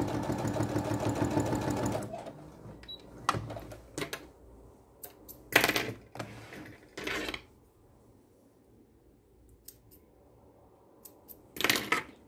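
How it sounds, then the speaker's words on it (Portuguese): A sewing machine stitches a French seam on a wide stitch setting, humming steadily for two seconds at the start, then sounding in short, intermittent runs with quiet gaps, close and moderately loud. "Eu vou até aumentar o ponto aqui da minha máquina, que eu acho que fica bem bacana com o ponto mais largo."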